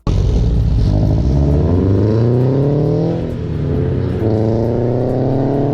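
A turbocharged GT86/BRZ engine with equal-length exhaust sound revs hard and continuously, rising in pitch, dipping briefly, then climbing again, loud and close with no talking.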